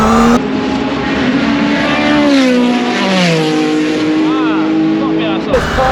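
A high-powered car accelerates hard and slides sideways around a race track, its loud engine note climbing and wavering close by while someone talks excitedly over it.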